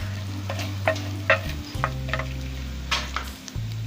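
Ginger and garlic frying in ghee for a potato and egg dish, a steady close sizzle with repeated stirring scrapes and clinks over a low background hum.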